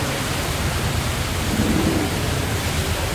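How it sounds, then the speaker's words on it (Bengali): Heavy rain pours down at Nalhati temple in a dense, unbroken roar, loud and close, with no other sounds standing out. "ভীষণ বৃষ্টি হচ্ছে"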